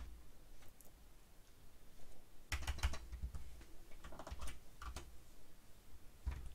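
Keys clatter on a computer keyboard during work in Exocad dental CAD/CAM software, quiet at first and then in uneven bursts of close clicks and taps over several seconds, with no talking.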